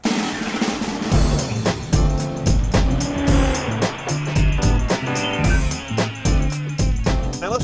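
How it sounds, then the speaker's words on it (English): A 2009 Range Rover Sport HSE with a 4.4-liter V8 drives hard, its engine revving loudly over pulsing music-like rhythm with tire noise, close and continuous throughout. "Let's go for a ride."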